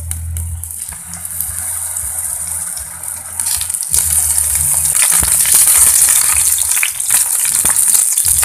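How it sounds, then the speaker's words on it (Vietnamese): Eggplant pieces frying in hot oil in a pan: continuous loud bubbling sizzle that swells as the eggplant goes in, with occasional stirring clatter and crackles throughout. "Khi dầu đã nóng các bạn sẽ bắt đầu cho cà vào chiên."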